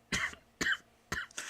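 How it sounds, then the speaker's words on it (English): Three short, sharp coughs from a man with a sore throat, evenly spaced and close to the microphone in a quiet room. "I apologize about the coughing"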